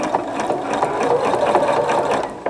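A sewing machine stitches binding onto a quilted table topper, running in a steady, continuous close-up whir with no pauses.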